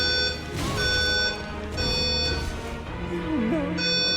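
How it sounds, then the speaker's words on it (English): A fire alarm rings through an Elden Ring gaming session, its repeated tone running steadily for most of the few seconds beneath loud game audio and a voice. "Not the fucking fire alarm."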